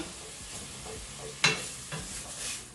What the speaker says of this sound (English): once you put minced meat in the pan, you need to keep on like stirring for it to like separate